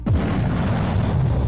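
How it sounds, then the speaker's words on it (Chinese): A heavy explosion as warships are struck in a battle scene hits with a sudden sharp blast, then rolls into a dense, sustained low rumble that holds steady at full loudness. "两艘战船瞬间就被秦浩轩所在的漆黑战船攻击阵法轰到"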